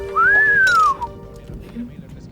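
A single rising-then-falling wolf whistle from a boy aimed at a girl in a Hindi-dubbed film scene, loud and clear, followed by quieter background noise.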